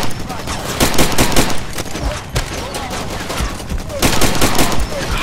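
Rapid bursts of gunfire from a firefight in the video game Far Cry 2 crackle continuously and loudly, with occasional voices talking over the shooting.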